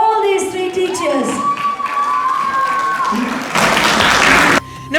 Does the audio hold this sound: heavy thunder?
no